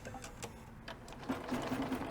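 A B990 embroidery machine stitching out an edge-to-edge design makes a quiet, rapid, regular mechanical ticking and whirring, with a faint steady hum underneath.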